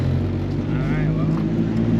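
Supercharged B-series Honda Civic engine while driving: a low, steady cruising drone with a constant hum throughout, fairly loud and unvarying.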